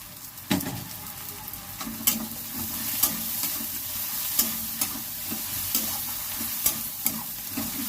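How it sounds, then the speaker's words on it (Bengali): Ground spices with cumin and chilli powder frying in a pan for a dal with eggplant, a constant close sizzle broken by regular spatula scrapes and taps roughly every second. "ভালো করে মশলাটা ভেজে নেব।"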